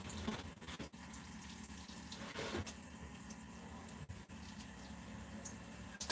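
Water sprinkled over houseplants to mimic rain, a steady continuous patter and hiss close by, with no talking.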